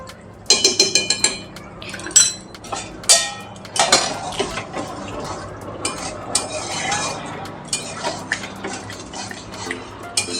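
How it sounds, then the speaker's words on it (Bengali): Potol chingri, a Bengali pointed gourd and prawn curry with butter just added, stirred in a pan with a spoon: loud, busy metallic scraping and clinking strokes in quick succession, with no voices. "বাটার দেওয়ার পরে একটু নেড়ে চেড়ে দিচ্ছি"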